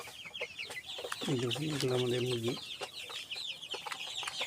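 Sonali chickens weighing about 500 to 700 grams keep up soft, rapid clucking and chirping, fairly faint throughout, while someone speaks briefly partway through.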